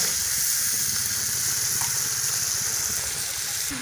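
Water poured into a pan of hot oil and cooked spices for a Shekhawati-style matira (watermelon) curry, giving a steady, close, hissing sizzle with bubbling beneath, continuous throughout with no talking.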